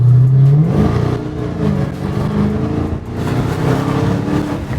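A 2022 Dodge Hellcat accelerating hard, its loud engine note rising and climbing steadily from inside the car, with no speech.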